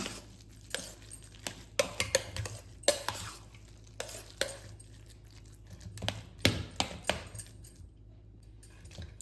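Cooked rice for curd rice being mashed while still hot in a vessel, with a series of soft squelching presses and clinks of the utensil against the pot, close and fairly quiet, no talking.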